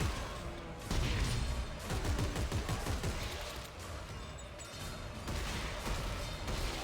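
Dense bursts of blasting and crashing from the Force Gun in the video game Dead Space 3, with repeated heavy concussive shots and explosive noise layered over a loud, continuous game soundscape.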